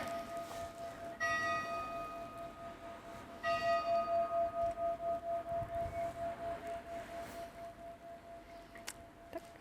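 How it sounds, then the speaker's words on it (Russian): A church bell in Harrachov, Czech Republic rings in two bursts of steady repeated strikes, fairly distant, with a sustained ringing tone lingering between and after the peals. "Колокольный звон."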